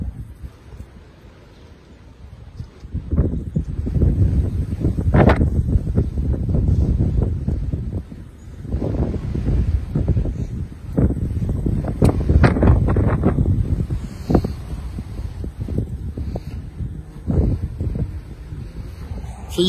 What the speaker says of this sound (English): You can tell how windy it is here by the tree,